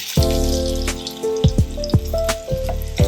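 Raw banana kofta fry in hot oil with a steady sizzle, broken by sharp pops and splashes as the pieces are turned, close and loud, with no talking.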